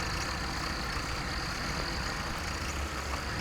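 A tractor engine idles in a farming video game set in spring 1961, a steady low rumble with a constant hum that stays even and unbroken throughout.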